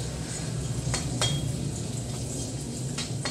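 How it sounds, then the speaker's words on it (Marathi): Spices, chopped green chili and garam masala sauté in a pan for chana masala, a soft steady sizzle with a few scraping stirs of a utensil, close and without talk. "ते मसाले परतून घ्यायचे।"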